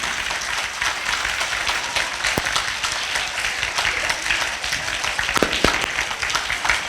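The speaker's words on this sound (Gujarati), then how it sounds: "દરેક વિદ્યાર્થી મિત્રો તાળીઓથી શરૂઆત કરશે કાર્યક્રમની." Students applaud together at the annual function of Hiramohan Vidhyalaya school in Surendranagar, producing a dense, steady wash of clapping that stays fairly even for about seven seconds, with a few sharper individual claps standing out.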